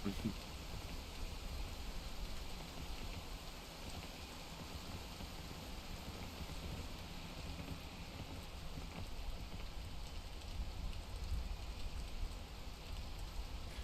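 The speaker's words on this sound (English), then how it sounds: "But I'm going to wait for the rain to stop." Constant rain in a video game fills the scene with a broad, even hiss of drops pattering on surfaces, steady and fairly loud for the whole stretch, without speech.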